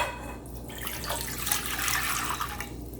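Water for homemade liquid hand soap is poured in a continuous, close splashing stream that runs steadily for a few seconds with no talking.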